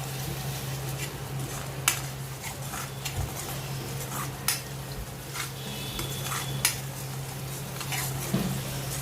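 Garlic-ginger paste stirred into sizzling masala in a home kitchen pan: a steady frying hiss under a low hum, punctuated by scraping and clinks of a spoon against the pan.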